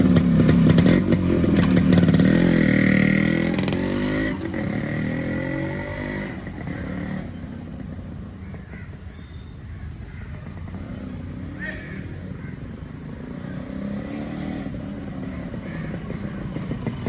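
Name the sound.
Yamaha RX100 two-stroke motorcycle riding on a test drive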